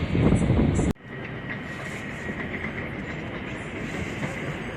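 A regional Regio train pulling into Wrocław Główny station opens with a loud roaring burst, then settles into a steady, fairly close rumble of rolling rail wagons with faint wind buffeting.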